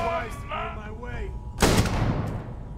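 A sharp gunshot burst rings out in the video game Starfield, a single loud blast with a short noisy tail, following a voice talking just before.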